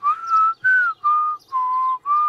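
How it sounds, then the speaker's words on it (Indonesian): A clear, close whistled tune of several sustained notes, each held then broken by short pauses, rising and falling in pitch. "Bersiul membutuhkan banyak latihan."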